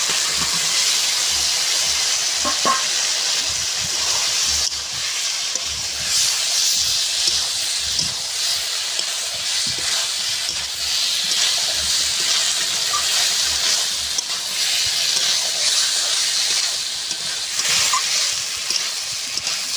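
Fried potatoes and soybean chunks sizzle in oily spice masala, a loud, steady, close hiss that runs unbroken throughout.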